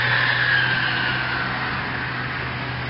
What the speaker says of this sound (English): God knows what that is, but some sort of bloody farming equipment.